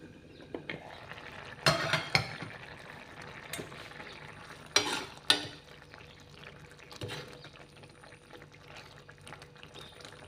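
Ram tori (ridge gourd) and onion sabzi sizzling in a pan over a medium gas flame, with a few sharp stirring scrapes and clatters over a steady low frying hiss, no voices.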